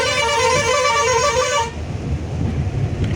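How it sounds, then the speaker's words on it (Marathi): One long, loud blast from a nearby vehicle horn on a narrow winding mountain road between Lumbini and Pokhara, Nepal, cutting off abruptly and leaving only the rumble of traffic. "तो हॉर्न वाजवा लागतो"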